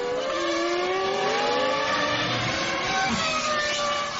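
Formula 1 race cars from the 1999 season at racing speed, a McLaren passing a Sauber, with a continuous high engine whine whose pitch climbs and shifts as cars pass close by.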